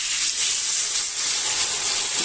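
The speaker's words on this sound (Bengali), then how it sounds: "এবার জল দিয়ে দিচ্ছি।" Water poured onto fried potatoes in a pan for Bengali aloo dum, a loud, close, continuous sizzling hiss of steam that holds steady throughout.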